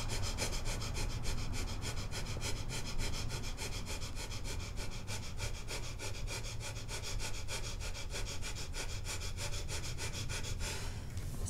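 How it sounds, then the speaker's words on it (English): Rapid, forceful breath-of-fire style yoga breathing, performed leaning forward with hips lifted, a fast steady train of sharp sniffing exhales running evenly and close for the whole stretch. "breathe really, really fast."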